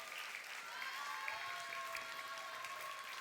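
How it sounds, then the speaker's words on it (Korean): Children's Friday worship service audience applauding, faint steady clapping heard at a distance, continuous for a few seconds with a sustained tonal hum underneath. "박수 한번 해주세요."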